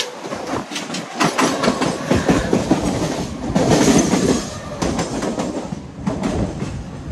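A Mumbai local train runs steadily on its rails, with dense rumbling and repeated rhythmic clatter from the wheels passing over track joints. The sound stays loud and close throughout, and no voices can be heard.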